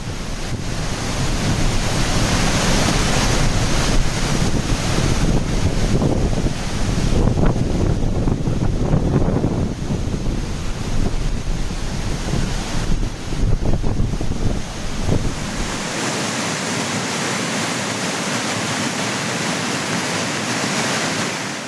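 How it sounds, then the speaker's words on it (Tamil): Flood water thunders over the Courtallam waterfalls in Tenkasi, spilling past the barriers, a dense unbroken roar of rushing water with wind buffeting the microphone, loud and constant throughout with no voices. "குற்றால அருவிகளில் வெள்ளம் தடுப்புகளை தாண்டி கொட்டுகிறது"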